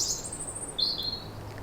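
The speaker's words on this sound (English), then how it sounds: "Robins, wrens, gold crests." Small songbirds such as robins, wrens and goldcrests sing in New Forest woodland, a sustained high chirping phrase followed by a brighter short burst, fairly close and clear over a low background rumble.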